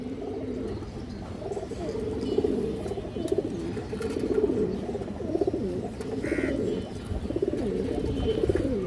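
High flyer pigeons on a farm coo in repeated low, rolling phrases that overlap one another, with a brief chirp and faint background murmur.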